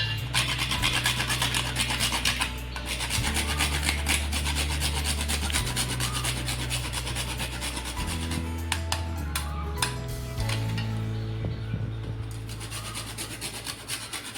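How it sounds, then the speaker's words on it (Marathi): Half a nutmeg scraped on a grater for healthy homemade laddoos gives a soft, repeated rasping rub under a constant low background hum, with no talking. "साधारण मी अर्धं जायफळ किसणार आहे याच्यामध्ये."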